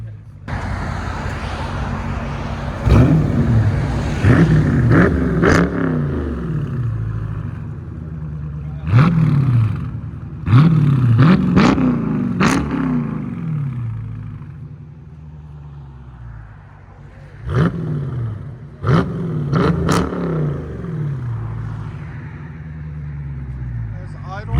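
Dodge Charger with a 6.4L V8 and modified exhaust rumbling at idle, then several sharp throttle blips roar up and fall back in bursts, close and loud, with brief talking between them.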